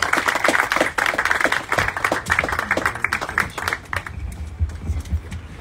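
Applause from an audience at a community meeting, dense clapping for a few seconds that thins out and fades toward the end, with low murmur underneath.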